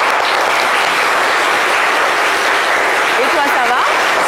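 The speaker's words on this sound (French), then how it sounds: "Merci de l'applaudir bien fort, s'il vous plaît." Sustained applause from a studio audience greeting a team member on a French-language midday TV show, dense and steady throughout, with a voice briefly heard over it near the end.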